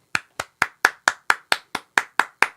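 A single person claps eleven times in a steady, evenly spaced rhythm, each sharp, close clap standing alone against silence.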